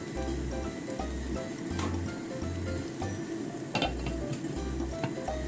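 A tuna and tomato omelette cooks over low heat in a covered pan, giving a steady soft sizzle and crackle, close and unbroken throughout, with a faint low pulsing hum underneath.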